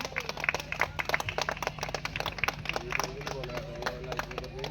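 Audience clapping welcomes a committee member to the stage at a cultural programme and competition held for Mangala Puja, steady applause with crowd murmur and some voices throughout.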